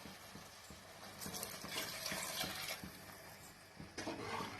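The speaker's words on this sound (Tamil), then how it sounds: "இப்போ இது கூட நம்ம தேவையான அளவு தண்ணி சேர்த்திடலாம்." Water splashes and trickles into a metal pressure cooker pot of mutton curry, with clinks and stirring scrapes, fairly quiet and close.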